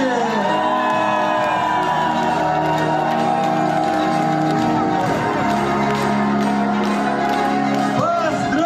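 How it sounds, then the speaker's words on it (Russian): A crowd at a Success Together corporate award ceremony whoops and cheers for a Black Diamond award being presented, with loud, sustained shouting and cheering over music. "Ребята, аплодисменты!"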